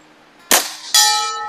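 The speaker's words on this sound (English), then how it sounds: "Every time I make a video, that bell gets rung a few times." Two air rifle pellets from a Hatsan Model 95 at 25 yards strike a metal bell target in quick succession, each hit a loud sharp clang with a ringing metallic tail, the second sustaining longer.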